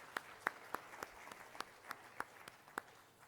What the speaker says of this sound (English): let's please give a round of applause to our distinguished speakers